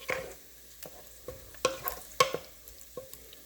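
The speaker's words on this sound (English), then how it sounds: "I'm just going to mix it up." Sofrito sauce is stirred in a pot, a spoon scraping and knocking in irregular bursts with a faint simmer between strokes, close and alone without talk.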